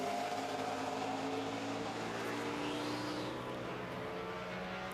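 A NASCAR Nationwide Series stock car at speed on the Richmond International Raceway oval, a steady loud engine drone with a rising and falling pitch sweep as it drives hard through a turn.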